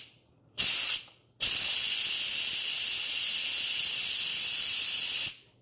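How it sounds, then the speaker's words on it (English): Steam hisses from the pressure valve of an Instant Pot during a controlled quick release while cooking meat sauce: a short loud burst, a brief pause, then a steady sustained hiss lasting about four seconds before cutting off. "toggling this pressure valve open and shut"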